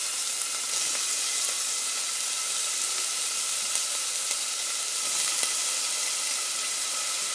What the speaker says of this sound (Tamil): இது ஃப்ரை ஆனாலும் ஆனியன் போடுறேன், கட் பண்ணி வச்சது.